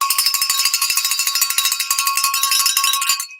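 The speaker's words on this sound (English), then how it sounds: "You ring the bell better than I do." A hand bell rung rapidly and continuously, bright and loud with a steady shaking rhythm for a few seconds before stopping abruptly.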